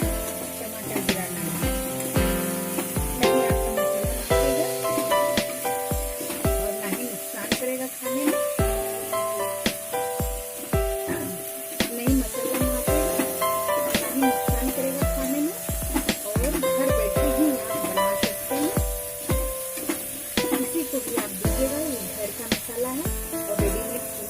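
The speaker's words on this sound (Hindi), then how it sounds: "ये मसाला भूनने से तेल जब छोड़ दे" Masala for aloo paneer fries in oil at home with a continuous hissing sizzle and occasional stirring, heard under background music and a speaking voice.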